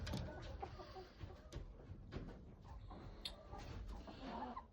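A flock of young hens around five months old, buff Brahmas among them, clucks and murmurs in a coop with roosters present, soft overlapping calls with occasional sharper squawks against a low background rumble.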